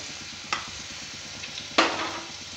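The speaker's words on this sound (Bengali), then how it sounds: "কেটে আর তেলে একটু ভেজে নেব।" Sliced egg fries in oil in a pan with a soft continuous sizzle, cut by two sharp clanks of a utensil against the pan.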